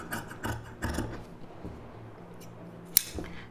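Scissors snipping blouse fabric along a curved neck shape, a few close, crisp cuts in a quick cluster, then a pause and one sharp final snip.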